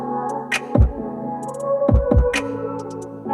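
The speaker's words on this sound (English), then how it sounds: "And you also do get 12 JBL speakers, which sound like this." Music plays through the twelve JBL speakers in a Toyota Supra 3.0, steady tonal content with deep bass thumps recurring a few times and bright transients on top, heard alone at moderate level.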